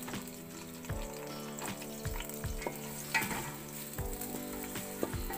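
Onions frying in oil until brown for a spicy fish karahi, a steady sizzle punctuated by regular knocks and scrapes of a spoon stirring in the pan.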